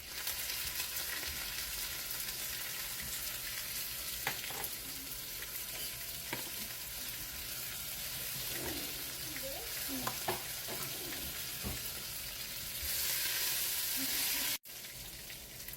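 Cumin seeds, green chili and curry leaves sizzle in hot oil with a steady frying hiss and scattered crackles and stirring clinks. The sound cuts off abruptly near the end.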